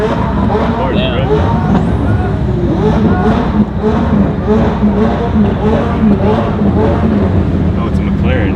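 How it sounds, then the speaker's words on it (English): A McLaren 750S sports car's engine runs loud and close at a car show, a throaty rumble that swells under excited voices talking over it. "Oh, it's a McLaren. It is, yeah. Damn, the 750S."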